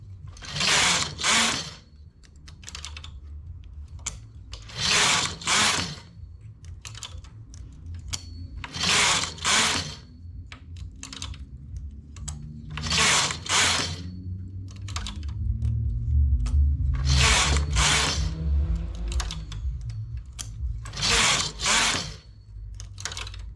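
A domestic knitting machine with its carriage sliding back and forth across rows of a garment piece, loud repeated rattling, clacking passes at a regular rhythm, with a low mechanical hum between them.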